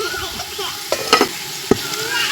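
Onions and cashews fry in a pot over a wood-fired stove, a soft sizzle broken by a few sharp clacks of a spoon stirring against the pot.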